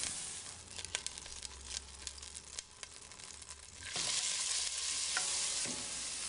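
Vegetables soften in a hot pan with a gentle, continuous sizzle broken by scraping stirs, growing louder and more steady as the frying settles in.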